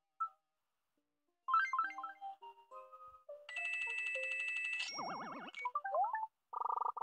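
Cell phone ringing in the Animal Crossing Pocket Camp video game: a string of bright chiming game tones and jingles, then a warbling ring and a repeated buzzing ring pattern, fairly loud with no talk.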